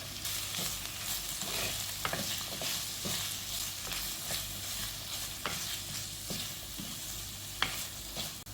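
Onions sautéing with half a teaspoon of salt in a pan, a steady close sizzle broken by light stirring scrapes and a few sharp taps of a spoon, no voices.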